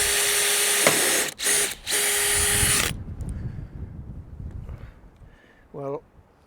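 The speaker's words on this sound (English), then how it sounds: "Just drilling straight into the metal." A power drill bores into a camper van's metal body, a loud high whine that stops briefly twice and then cuts out, followed by quieter handling sounds and a brief voice.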